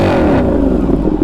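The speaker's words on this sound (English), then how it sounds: "There's very few bikes where I feel bad even when I'm in the middle of nowhere to even rev it" A Ducati 959 Panigale motorcycle engine revs hard through a loud aftermarket exhaust, a close, sustained snarling roar that holds steady with slight rises and dips across the short stretch.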